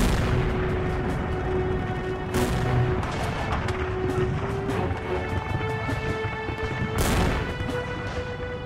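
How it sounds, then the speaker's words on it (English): Artillery bombardment sound effect for the Russian siege of Plevna, with repeated heavy booms and rumbling blasts; two very loud impacts stand out over continuous distant firing and crackle. "the Russians subjected Plevin to an artillery bombardment"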